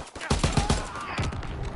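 Rapid pistol shots in a first-person shooter video game, with a quick close burst of several sharp cracks and then more firing over a steady background din.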